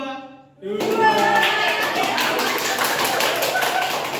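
A group of children claps in unison after a brief pause, a dense burst of rhythmic hand claps with voices mixed in, close and loud.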